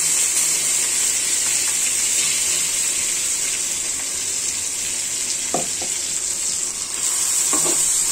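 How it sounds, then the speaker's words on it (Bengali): Blended spice paste of ginger, garlic and onion with raw jackfruit and tomato fries in a pot, a steady loud sizzle with a few short scraping clicks of stirring. "আমি এখন এতে মশলাটা ঢেলে দিব।"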